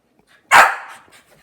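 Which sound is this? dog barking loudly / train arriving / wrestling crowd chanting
dog barking loudly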